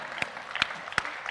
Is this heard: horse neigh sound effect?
no